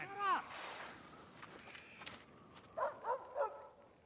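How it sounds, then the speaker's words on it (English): A dog barks a few times at moderate distance, one early yelp and then a quick burst of three barks, with faint movement noises between. "what are you barking at?"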